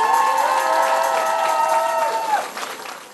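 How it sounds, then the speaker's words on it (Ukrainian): An audience at a school KVK comedy competition cheers and applauds for the teachers. A loud crowd roar with a sustained shouted tone fades out after a couple of seconds. "Давайте бурхливими оплесками подякуємо ще раз"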